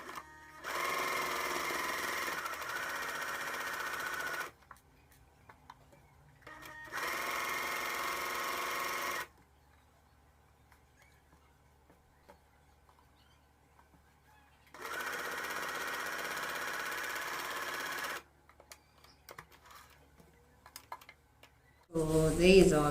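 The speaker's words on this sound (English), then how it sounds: "I'm just going to join the pieces with a straight stitch" A sewing machine runs a straight stitch joining denim skirt pieces made from jeans. It buzzes in three steady, fairly loud runs separated by quiet pauses, and a brief rustle comes at the end.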